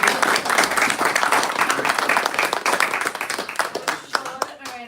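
Audience applause from a live event crowd, a dense sustained burst of many hands clapping that thins out toward the end, with a voice briefly heard as it fades.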